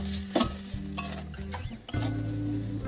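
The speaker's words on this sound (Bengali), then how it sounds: "সামান্য একটু জল দিয়ে মশলাটা ভালো করে বেশ কিছুক্ষণ সময় ধরে কষাতে থাকবো।" Spice paste with Kashmiri chilli powder and a splash of water is stir-fried in a pan, a brief soft sizzle broken by a few quick scraping strokes of a spoon.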